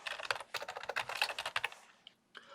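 Rapid, close computer keyboard typing in quick irregular bursts of clicks, entering a professor's name as a new folder name in FileZilla, pausing briefly near the end before a final keystroke.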